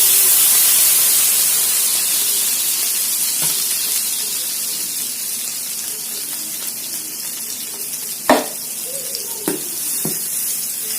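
An onion dosa sizzles on a hot pan after water is sprinkled over it. A loud hiss of steam fades slowly into steady frying, with a few close clicks and taps near the end.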